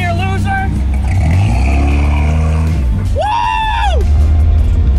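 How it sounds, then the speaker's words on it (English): A Ferrari accelerates in a race, its loud engine note climbing and falling in pitch as it revs, while a person yells over it. "see how quick I can get this Ferrari to go"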